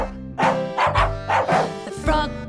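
In a children's nursery rhyme song, a playful dog goes woof, with about five bouncy, tonal barks in a steady rhythm set against the music.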